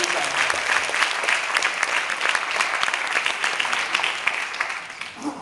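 Steady audience applause at a design school presentation honouring designer Marco Vaona, a dense room of clapping hands sustained evenly throughout before tapering slightly at the end.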